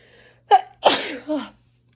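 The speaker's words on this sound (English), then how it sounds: "I hate when I sneeze and then you get like snot on your arm." A single close sneeze: a quick sharp intake, then an explosive burst that trails off into a brief exhale, in an otherwise quiet room.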